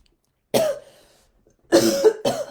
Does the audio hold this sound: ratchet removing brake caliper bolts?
no